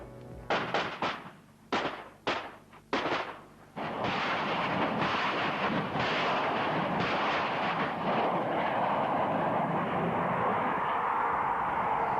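A G6 self-propelled howitzer fires artillery projectiles, five heavy booming blasts in quick succession, each with a short echoing tail, followed by a long rumbling roar that carries on steadily.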